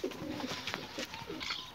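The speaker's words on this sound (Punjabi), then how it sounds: "ਚਲੋ ਜੀ, ਕਬੂਤਰ ਬਾਹਰ ਕੱਢੀਏ ਸਾਰੇ।" Pigeons coo softly around their coop as they are let out, a faint, broken series of low calls.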